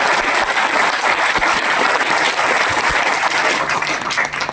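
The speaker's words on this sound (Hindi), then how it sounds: "मैं चाहूंगा ताली होनी चाहिए लोगों की, जोरों ताली होनी चाहिए" Loud, dense applause from a seminar audience in Gwalior fills the room steadily and without a break from start to finish.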